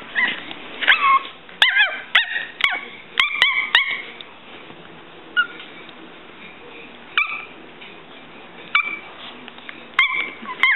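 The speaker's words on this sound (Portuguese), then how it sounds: "Tô brincando com o cachorrinho." A puppy yips and barks in short, sharp bursts while playing, close by, with pauses between bursts and faint whimpers.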